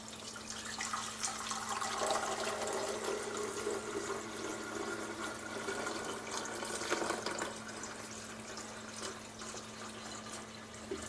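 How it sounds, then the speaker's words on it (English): Water pours steadily into the reservoir of a Keurig K70 coffee maker, a continuous close splashing rush that swells slightly and then tapers near the end. "Let's pour water in here."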